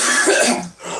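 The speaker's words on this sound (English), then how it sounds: "just coughing" A person coughs several times in a quick burst, close and fairly loud, with a brief pause near the end before a rough exhale trails off.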